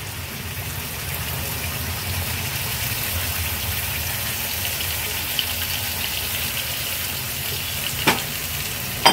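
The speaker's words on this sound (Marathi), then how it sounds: "आता आपण ही जी ग्रेव्ही तयार केलेली दह्यामध्ये मसाले मिक्स करून ही ग्रेव्ही ह्यात घालून घेणार आहोत" A yogurt and spice gravy poured over softened fried onions in a pan makes a loud, continuous sizzle, with a couple of sharp clinks near the end.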